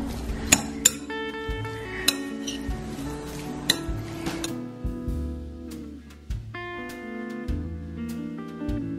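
Eggplant with garlic, salt and herbs is stirred in a pan, with sharp utensil clinks against metal over a soft sizzle, sounding near and irregular.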